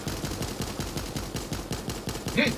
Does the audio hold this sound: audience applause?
no